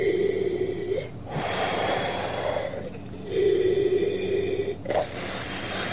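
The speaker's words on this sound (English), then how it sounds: "Oh, I never thought breathing could be so enjoyable." Deep breathing from an oxygen bottle aboard a stranded lunar dust-cruiser in a radio drama: long, slow inhalations and exhalations with hissing gas flow, three breath cycles, close and fairly loud.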